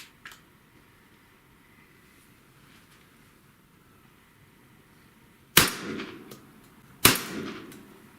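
A Fabarm XLR Chesapeake 12 gauge shotgun fires Remington Clay and Field 1 1/8 ounce shells: two sharp, loud blasts about a second and a half apart break a quiet outdoor lull, each followed by a short fading echo.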